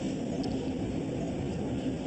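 A TAM Airlines Airbus A320 on landing approach roars overhead, a steady, loud broadband engine rumble with a faint higher whine, sustained without breaks and no voices.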